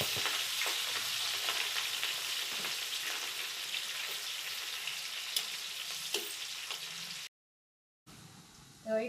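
Chillies fry in a pan with a steady, bright sizzle and occasional stirring clicks, then a brief silence before the sizzle returns faintly.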